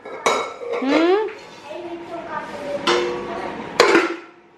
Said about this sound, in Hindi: नानी मम्मा का प्रेशर कुकर तोड़ रहे हो?